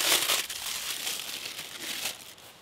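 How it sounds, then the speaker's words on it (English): Flex Tape crinkling and rustling close up as it is wrapped around a premium Italy soccer ball, a dense crackling burst at the start that settles into softer crinkles, with no speech. "Let's put the Italy ball under the flex tape"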